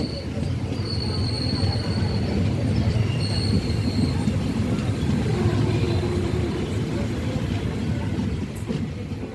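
Passenger train pulling into Manjal Thidal railway station, heard from on board: a loud continuous rumble of rolling wheels with high squeals of wheels on the rails and a faint clatter.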